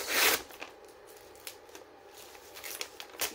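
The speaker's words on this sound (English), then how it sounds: "I need to get the scissors involved" A few quick, crisp scissor snips close by cutting packaging, with faint rustling between cuts.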